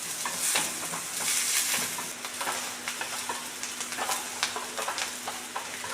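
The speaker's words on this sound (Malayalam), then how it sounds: "എണ്ണ ഒന്ന് ചൂടായി വരുന്ന സമയത്ത് നമുക്ക് ഇതിലേക്ക് സവാള അരിഞ്ഞത് ഇട്ട് കൊടുക്കാം." Chopped onion fries in hot oil, crackling and sizzling steadily close by, with frequent stirring scrapes and light taps of a utensil in the pan.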